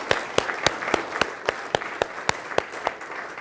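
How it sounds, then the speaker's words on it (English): Applause from an audience at a Z-Wave Alliance Fall Summit awards ceremony, with a steady wash of clapping punctuated by several sharp, distinct claps from nearby hands. "So let's give those guys a round of applause"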